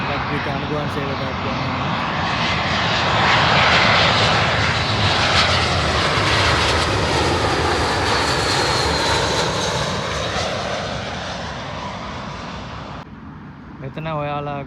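Passenger jet landing at London Heathrow Airport, a long loud engine roar building to a peak as it passes close overhead, then tapering off, followed by a brief moment of talking at the end.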